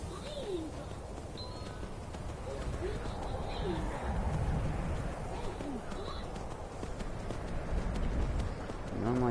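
Horse hooves clip-clop steadily in the video game Skyrim, a continuous rhythmic trot under outdoor ambience with bird calls and occasional cooing, moderately loud throughout.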